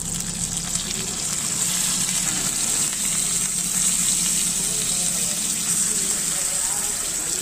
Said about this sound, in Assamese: এতিয়া ধুনীয়াকৈ মাংসটো ফ্ৰাই কৰি ল'ম